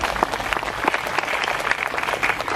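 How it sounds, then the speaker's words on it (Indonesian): An audience at an evening gathering with a religious speaker at a police headquarters in Klaten applauds in a steady, dense wash of clapping that holds level throughout, with no talk over it. "Tepuk tangan dulu dong."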